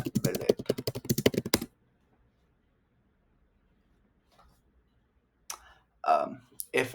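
Fast computer keyboard typing comes as a quick, close burst of clicks at the start, followed by near silence and then a few scattered, fainter taps.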